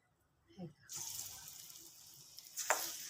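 Moong dal bhaji fritters frying crisp in hot oil, a steady broadband sizzle that swells in after a quiet start and holds to the end, with a brief clink and a soft voice early on.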